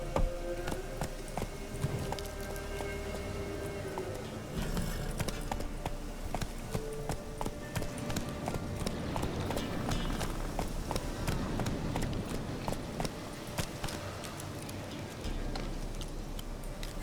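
Roach, a horse in The Witcher 3, gallops with steady rhythmic hoofbeats throughout, close and fairly loud, over a low game ambience with faint music.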